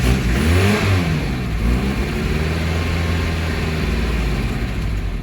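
An old car engine in a garage revs up and settles into a rough, uneven run with a knock and a fuel delivery problem, loud and close with no talking.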